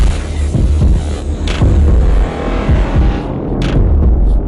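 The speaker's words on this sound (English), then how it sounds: "there's a hum, a heartbeat, a pulse." A loud, continuous low hum with a throbbing pulse, punctuated by occasional deeper thumps and brief brighter swells.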